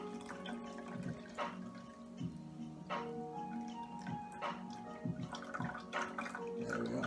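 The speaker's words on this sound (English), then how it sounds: "Take your glass of choice and pour ingredients straight in." A pink Cosmopolitan cocktail is strained into a glass, giving a faint, close trickle of liquid with scattered clinks and drips of ice against the strainer.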